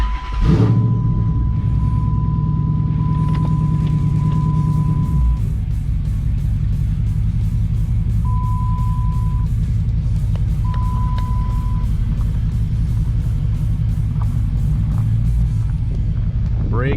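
A loud, deep 5.7 Hemi V8 in a rebuilt 2009 Dodge Challenger R/T rumbles steadily close by, its low throb continuous throughout, with a faint high beeping tone appearing at intervals.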